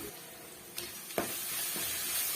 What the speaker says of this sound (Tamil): சேர்த்துட்டு ஒரு நிமிஷம் வந்து நல்லா வந்து பெரட்டி விட்டுக்கலாம்